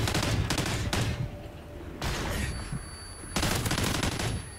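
Rapid automatic gunfire in a shooter video game, dense and loud, rattles off in sustained bursts with a brief break in the middle, up close and with no one talking over it.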